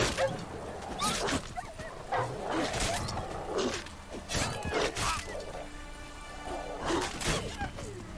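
Wolves in The Witcher 3 on Xbox One growl and yip during a thunderstorm, with several short bursts over game music and ambient noise.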